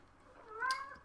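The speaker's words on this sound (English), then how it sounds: "You can hear him meowing in the background." Kitten meowing indoors, a single short rising-and-falling meow, fairly faint and close, over quiet room background.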